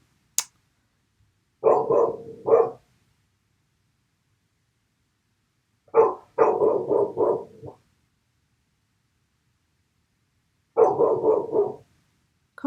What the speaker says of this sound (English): Kona's barking, so one of my kids is probably coming in.